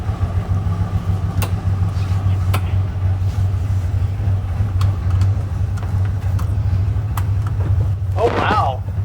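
A CFMOTO off-road vehicle with upgraded brakes drives along with a steady, loud low engine rumble throughout, a few faint clicks and rattles, and a brief sharper noise near the end.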